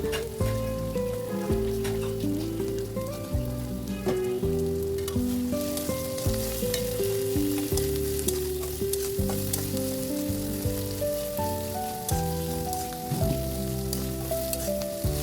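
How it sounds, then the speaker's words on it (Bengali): Dried fish (shutki) frying and being stirred in oil in a pan, a steady sizzle running throughout beneath loud background music. "মোটামুটি 2 থেকে 3 মিনিট এভাবে নেড়ে চেড়ে শুটকি ভালোভাবে ভেজে নিতে হবে এই তেলের মধ্যে।"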